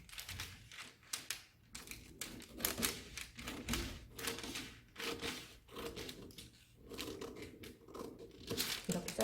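Scissors cut a dart out of a paper sewing pattern for a basic shirt front: a close run of crisp, uneven snips and paper rustling, with no voices.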